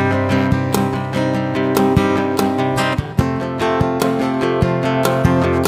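Percussive acoustic guitar verse groove: strummed chords with body slaps and string hits in a steady, loud rhythmic beat, played alone without talk.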